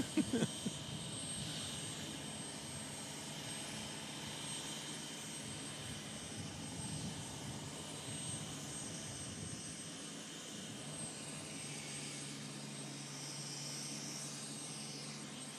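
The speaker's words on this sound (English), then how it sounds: "I thought you might have a pun for a helicopter with no doors" A helicopter flying with its doors off at a Chopper Dropper event, giving a steady, loud rotor and engine drone that holds throughout without a break.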